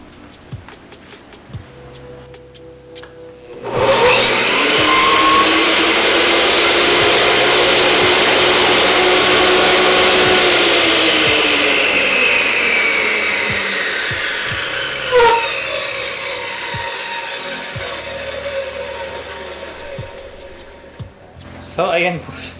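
A Bosch 10J table saw switches on with a loud, steady whining motor drone that holds for several seconds, then gradually winds down to a fade, heard close and without talk.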